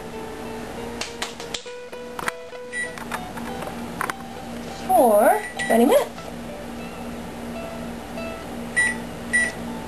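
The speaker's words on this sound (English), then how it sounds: "Now we're going to set the timer" Beeps from an oven timer being set while a low-carb garlic chicken pizza bakes in a home kitchen: a few short electronic tones near mid-clip, preceded by faint clicks, with someone talking over a steady background hum.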